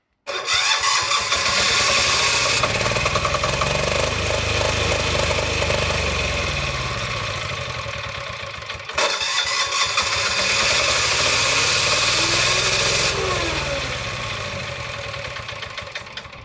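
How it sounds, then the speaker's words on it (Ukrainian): A Qube QED7500XE diesel generator cranks on its electric starter and catches, settling into a loud, steady, rough diesel chug with a brief dip midway before running on evenly, heard close with no speech. "беремо ключик, вставляємо його в отвір запалювання і пробуємо запустити зі стартера"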